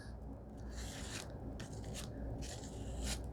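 A plastic gift card rubbed across a textured journal card, giving several short dry scraping strokes in bursts, close and fairly quiet, with no talking.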